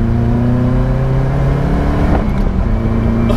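A Caterham Seven 270S sports car is driven hard, its engine droning loud and steady with layered harmonics and a brief rise in pitch midway, heard from inside the car with no talking.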